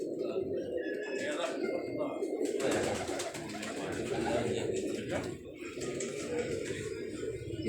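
Pigeons at a rooftop pigeon club coo steadily through the whole stretch, a soft continuous murmur of birds close by, with someone talking over them for much of it.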